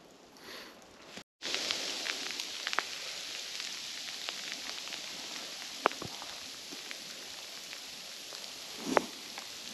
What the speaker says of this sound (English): it's raining, but it's not hailstones, but it's just little bits of ice